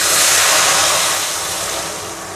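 Boiled lentils hit hot oil with fried onion and garlic in a pan, releasing a loud, dense, continuous sizzle that slowly fades over a couple of seconds, close and without talk.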